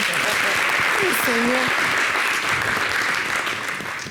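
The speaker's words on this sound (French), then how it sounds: "applaudissez parce qu'elle en aura besoin" A studio audience on a French television show claps steadily throughout, with a brief voice rising and falling over the applause.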